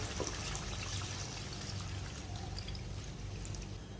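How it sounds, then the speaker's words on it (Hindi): Water pours steadily into a cooking pot of spices for chicken pulao for a few seconds, a continuous splashing trickle at moderate, close range with no voices. "अब इसके अंदर पानी शामिल कर देते हैं 3 गिलास भर के।"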